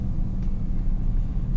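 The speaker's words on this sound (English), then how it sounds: "I have not pressed any gas pedal and the vehicle moved again on its own" Audi Q3 S line e-Hybrid (200 kW) creeping off on its own in stop-and-go traffic, a low steady rumble of road and drivetrain inside the cabin, with no talking.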